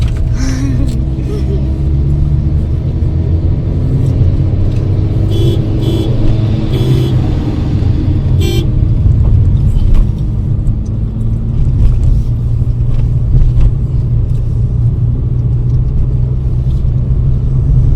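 A Honda Amaze car drives along a winding mountain road on the way to Leh Ladakh, with a steady close engine drone and road rumble throughout and a few faint clicks, no talk.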